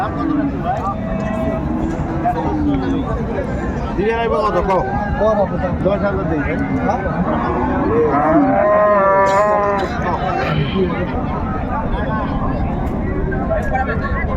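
Dairy cows and calves at the Raniganj cattle market in Dinajpur low repeatedly with long, drawn-out moos, some near and loud, others farther off, over a busy bed of crowd talk and market hubbub.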